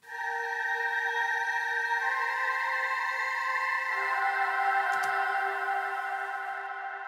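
A sustained choir-like synth sample, processed with chorus, reverb and bit reduction and left ungated, holds steady layered tones for several seconds, with a brief glitchy burst near the end before fading slightly.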